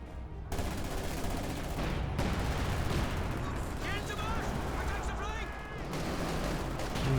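Anti-tank gunfire in Company of Heroes 2, from a KV-2 and M-42 AT guns, thumps out as repeated heavy shots within a dense, continuous wash of battle noise and explosions, with no clear pause.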